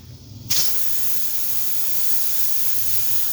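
Steam hisses hard out of a pressure cooker of spicy Punjabi chicken curry once its weight is lifted off the vent, a sudden loud, steady burst that starts after a brief quiet moment and holds on without a break.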